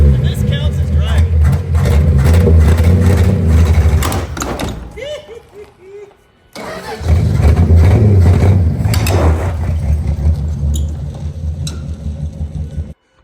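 A 1962 Dodge Lancer with a poorly tuned carburetor runs rough while driving, its engine a loud, uneven low drone that drops away briefly before returning, with people talking over it.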